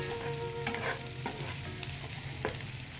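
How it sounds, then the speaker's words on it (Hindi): Chicken and carrots frying in a pan, a steady close sizzle with occasional stirring scrapes and clicks running throughout, no voices. "अब मैंने इसमें गाजरें ऐड कर दी हैं। ठीक है, इसको थोड़ा सा मैंने पकाना है।"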